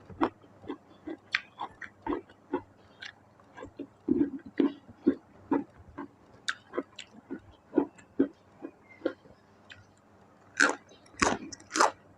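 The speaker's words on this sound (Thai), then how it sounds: "กินข้าวกับแคบหมูอร่อยค่ะ" Crunchy pork rinds being bitten and chewed with rice, a close, fairly quiet series of irregular crisp crunches and bites with short pauses between them.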